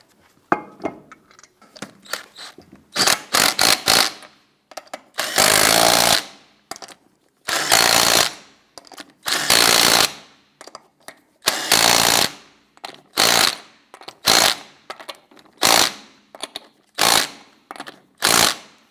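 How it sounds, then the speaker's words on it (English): A power tool bursts in short and long whirring runs as lug nuts are threaded onto a Jeep Wrangler wheel, about a dozen loud close pulses separated by brief pauses. "Get our lug nuts threaded on here."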